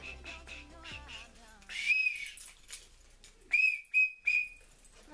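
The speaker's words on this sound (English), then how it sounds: "and a whistle." A small whistle from a backpack gives several sharp, loud high-pitched blasts, short bursts near the end, following a stretch of soft talking.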